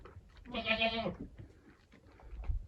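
A pregnant goat in a barn lets out a single loud, wavering bleat up close, followed by faint rustling and low background noise.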